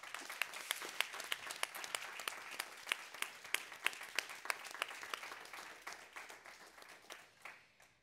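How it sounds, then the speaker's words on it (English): A modest audience applauds at the opening of a Caesar exhibition, with distinct individual hand claps, fairly close and sparse, thinning out and tapering off over the final seconds. "And please give them a warm applause."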